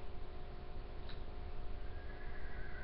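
A brief horse whinny from the video game Minecraft rises over a steady, noisy background hum, with faint electronic tones running underneath.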